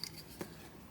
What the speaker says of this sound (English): So we want to get rid of this tiny little strip of stabilizer. I'm going to use scissors for that.